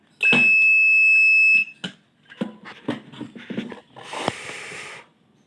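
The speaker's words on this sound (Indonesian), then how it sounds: "genset akan mengeluarkan alarm seperti ini dan akan berbunyi buzzernya dari sini ya" A steady electronic alarm buzzer from a generator set's Arduino-based AMF-ATS control panel drones for over a second, then stops, followed by clicks, rustles and a burst of hissing noise.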